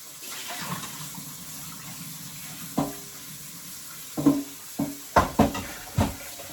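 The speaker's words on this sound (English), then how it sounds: "And we're going to rinse this out." Water runs and swishes as a beef and beans food pouch is rinsed out, a low steady trickle broken by several sharp splashing gushes and sloshes near the end, with no talking.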